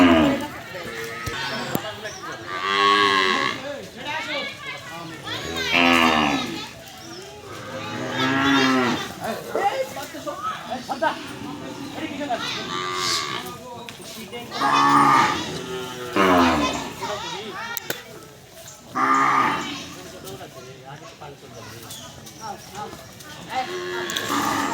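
Cows at a free cattle vaccination site run by the upazila livestock office moo repeatedly, several loud, drawn-out calls close by, interspersed with people talking and laughing.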